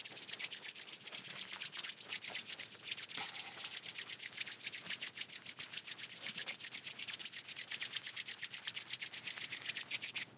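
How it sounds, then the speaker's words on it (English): Palms of both hands rubbed briskly together during a seated chair yoga hand stretch, a steady rhythmic swishing of skin on skin repeating quickly and evenly throughout, close and fairly quiet with no talking. "bring the palms of your hands together and give them a big rub"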